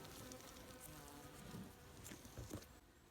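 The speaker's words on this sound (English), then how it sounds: "there's an ordinary wasp." A common wasp buzzes close by among ivy foliage, a steady faint droning hum with slight swells in loudness over about three seconds, no talk.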